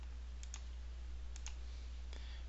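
A computer mouse clicks in three quick double clicks, sharp, close and quiet, spaced about a second apart over a low steady hum.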